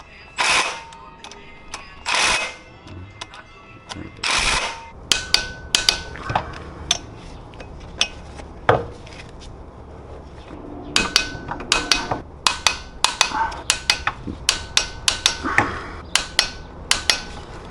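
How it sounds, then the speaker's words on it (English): An impact wrench rattles in short bursts during a Subaru WRX clutch replacement, with repeated loud hammering rattles separated by pauses and clinks of tools in a garage. "I'm used to Chris coming with his giant impact."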